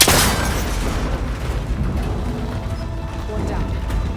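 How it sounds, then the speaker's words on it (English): A gunshot strikes a cable connector in an action video game as an ancient, rickety tower is scaled, setting off a booming burst that rolls into a sustained low rumble and clatter lasting several seconds, with voices over it. "That connector's holding the cables together. It should break if I shoot it."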